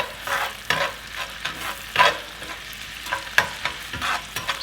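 A spoon stirs food frying in a pan with squeezed lemon, making irregular scraping strokes over a soft sizzle, close and fairly loud with no talk.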